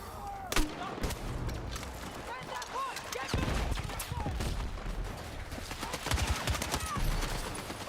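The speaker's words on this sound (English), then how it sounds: "Can this guy stop shooting at me right there?" Rapid bursts of gunfire crackle throughout a Battlefield 6 firefight, sharp shots and automatic volleys coming near and far over a busy battle din, with a voice talking over part of it.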